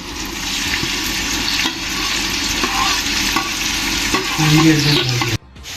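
Finely chopped onions sauté with curry leaves for a Kerala-style chicken curry, giving a loud, steady frying sizzle with scraping stirs throughout and a brief cut near the end.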